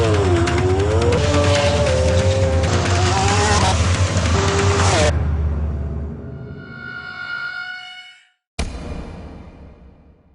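A 2012 Lamborghini Aventador, its most powerful model, roars loudly at speed around the Nardo Ring high-speed test circuit in Italy, the engine note rising through gears before fading away, then a sharp return of sound near the end.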